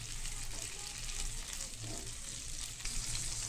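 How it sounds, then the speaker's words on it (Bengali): Ridge gourd sizzles steadily as it is stir-fried with green chilli in a pan, a continuous close frying hiss with light scraping of stirring and no talking. "ঝিঙেগুলো দিয়ে খুব ভালোভাবে নাড়াচাড়া করে মিশিয়ে নেব"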